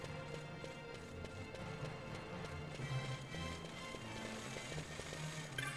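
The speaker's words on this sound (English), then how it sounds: "The footsteps when I speed it up." Quick, regular running footsteps patter through a Final Fantasy XII game scene, faint and rhythmic over a soft musical background.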